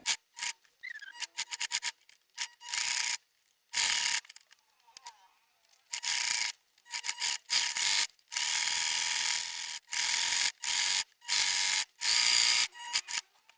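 A sewing machine stitches fabric scraps together for a patchwork rug, sounding in quick mechanical bursts that stop and start repeatedly, close and fairly loud with no voices.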